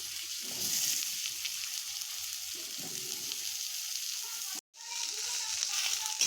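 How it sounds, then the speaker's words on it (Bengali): Eggplant slices fry in oil left over from frying turmeric-and-salt fish, giving a steady close sizzle that briefly cuts out near the end, with faint voices in the background. "এখানে আমরা মাছ ভাজার তেলেই বেগুনগুলো ভেজে নেব।"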